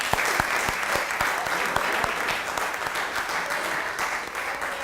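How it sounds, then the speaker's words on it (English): Audience at an alumni awards breakfast giving a round of applause to the committee, a full, steady wash of many clapping hands with some sharper individual claps standing out nearby. "let's give them a round of applause"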